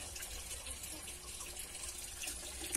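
Water pouring into a fish tank, a steady gushing, splashing flow with no breaks, close but moderately quiet.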